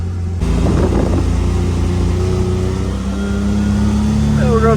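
A 2024 Ford Maverick pickup pulls away in drive, its engine hum rising steadily up close inside the cab, with a voice talking over it.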